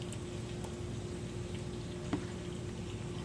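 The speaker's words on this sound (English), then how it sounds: "we are going to let them simmer in the sauce" Meatballs simmering in homemade spaghetti sauce, a faint, steady low bubbling with occasional soft pops, heard alone without talk.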